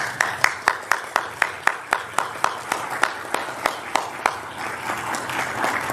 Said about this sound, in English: I'd like for everyone to applaud this group of new employees to our university.